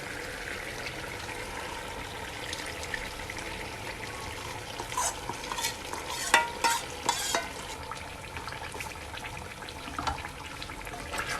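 Beef paye (trotters) frying and being stirred in a pan, a steady low sizzle with scattered scraping clicks of the spoon, a few sharper knocks in the middle, no voices.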